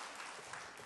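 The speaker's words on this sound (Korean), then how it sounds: "우리 박수로 한번 환영하시겠습니다" Brief burst of applause from a church congregation welcoming visitors during Sunday worship in New Jersey, many hands clapping in a dense, even patter.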